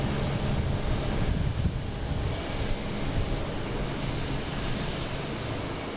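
A JetBlue airliner arriving at Boston Logan International Airport makes a continuous, broad engine roar that holds steady throughout, mixed with wind buffeting on the microphone.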